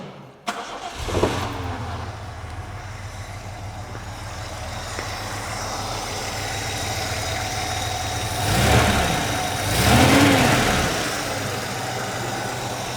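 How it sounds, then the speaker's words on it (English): A Ford Capri Mk I 3000 GT XLR with twin carburettors cranks and fires after a click, then settles into a steady low idle with two brief revs swelling near the end, close and alone. "And now I'm going to start the engine and set the idle mixtures."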